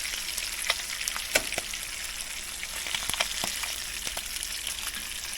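Largemouth bass fillets sizzle and crackle steadily in a hot pan, a close, continuous frying hiss dotted with sharp pops and spatters, with no talking.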